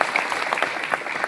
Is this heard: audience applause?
yes